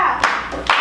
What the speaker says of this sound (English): This next song, everyone's got to try and clap along as the best as they can